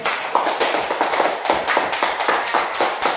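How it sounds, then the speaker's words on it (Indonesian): Classroom applause for a student group during a school teaching session, a steady patter of claps with irregular hand strikes, moderately near and continuous throughout without talk. "Ayo tepuk tangan dulu buat kelompok 1"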